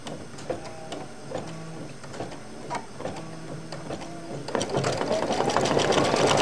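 An embroidery-capable sewing machine stitches in a steady mechanical rhythm of quick clicking pulses, then speeds into a louder, continuous whir near the end.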